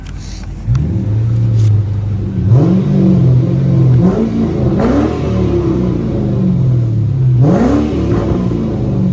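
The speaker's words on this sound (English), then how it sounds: "Let's hear the exhaust and then we'll look under the hood." A 1996 Ford Mustang Cobra coupe fitted with a Bassani X pipe exhaust idles with a deep burble, then rises through several loud, close revs, each climbing sharply and falling back to a low rumble.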